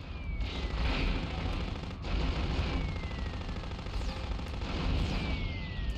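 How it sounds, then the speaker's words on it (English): Rapid gunfire and blasts in the video game Future Cop L.A.P.D. form a continuous, loud barrage with repeated bursts and whizzing streaks, filling the whole stretch with no voices over it. "Stop shooting at me!"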